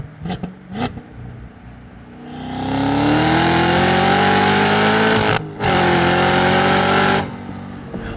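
A 2023 Cadillac CT5-V Blackwing sedan with a supercharged 6.2-litre V8 and manual transmission revs up hard from idle into a loud, sustained rising roar, briefly cuts out, then roars again before settling back down; close and dominant.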